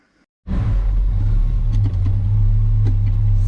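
A 350 V8 car engine with a Holley carburettor starts after a brief crank, catching at once into a loud, steady rumbling idle close by, with slight fluctuations and a faint rattle.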